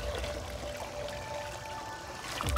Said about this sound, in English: First things first, hot water in here.